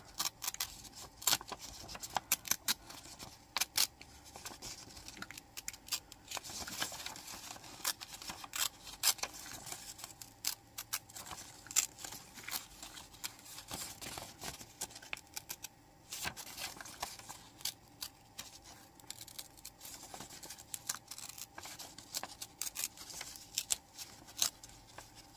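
Scissors snip around a paper owl cutout for a scrapbook craft, giving it a jagged edge: a faint, quiet stream of small crisp clicks and snips, close by, with no talking.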